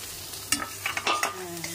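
Boiled long beans (lobia) sizzling in a pan on a gas stove, with a soft steady fry beneath a few quick spoon scrapes and clicks, close and fairly quiet.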